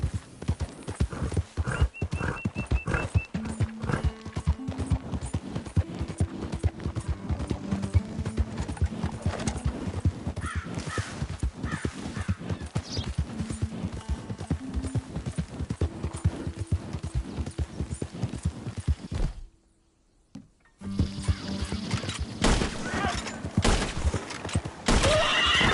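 A horse in Red Dead Redemption 2 gallops in rapid rhythmic hoofbeats with repeated whinnies over a busy game soundscape, briefly dropping to near silence before the galloping resumes.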